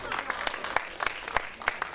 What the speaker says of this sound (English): Clap it up if you saw the Spider-Man movie.